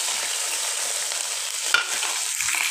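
Small puthi fish sizzle steadily in hot oil with darkened fenugreek seeds for an Assamese tenga curry, a continuous close frying hiss broken by a few stirring scrapes.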